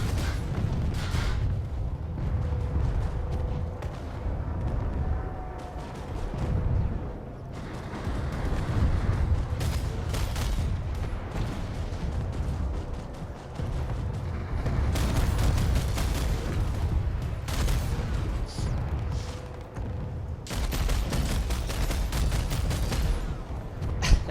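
Planetside 2 gunfire: sustained, dense bursts of shots and rattling volleys, with booms and mechanical clatter layered throughout, loud and continuous with brief lulls.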